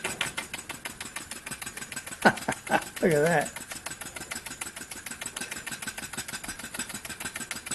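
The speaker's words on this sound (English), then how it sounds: "All right, let's try another steam engine I've got." A small model steam engine runs steadily, its fast even chuffing continuing through the whole stretch, with a brief spoken remark partway through.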